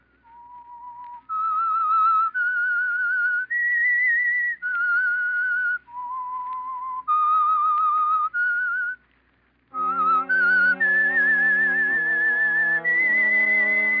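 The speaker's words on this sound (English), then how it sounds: "That whistle is your signal for the Signal Oil Program" Someone whistles a slow, clear melody, loud and near, as a 1946 radio drama theme. Near the end a deeper, richer tone joins in under the tune.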